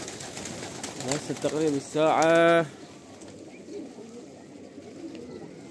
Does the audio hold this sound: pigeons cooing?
yes